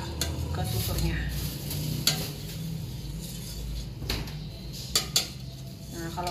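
A utensil stirs milk and vinegar in a pot to make homemade mozzarella curd, scraping and clinking against the metal in a steady rhythm over a low background hum. A few sharper knocks come near the end, and nobody speaks.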